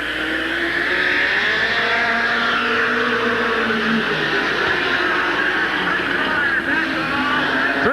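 Stock cars race at Midvale Speedway in 1986, a loud continuous engine drone with rising and falling pitch as cars circle the track, with faint talk underneath.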